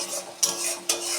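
Fish curry of cut rohu pieces being stirred and sautéed in a pan, with two sharp scrapes of a utensil against the metal over a soft, steady sizzle.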